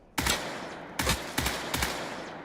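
Gunfire in the first-person shooter game Off the Grid: four sharp, loud reports, spaced irregularly, each followed by a short ringing tail, with no talking.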